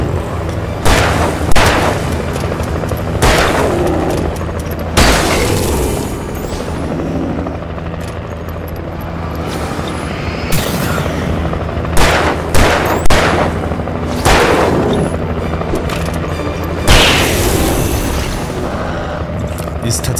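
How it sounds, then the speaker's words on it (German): A helicopter's loud, steady rotor drone in the video game Alan Wake Remastered, broken by repeated bursts of gunfire and heavy booms at irregular intervals, with a voice talking over it at times. "Ist tatsächlich sehr angenehm mit dem Hubschrauber da oben."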